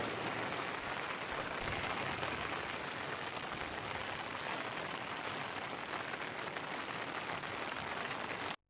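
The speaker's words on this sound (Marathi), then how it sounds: "बघा आता किती पाऊस आहे तो तुम्हाला दाखवतो" Steady, dense monsoon rain in Konkan pouring down and drumming on surfaces, a constant broadband hiss with no pauses, cutting off abruptly at the end.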